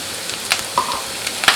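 Sliced onion and potato frying in a pan for a Spanish omelette, a steady hissing sizzle with a few faint utensil taps.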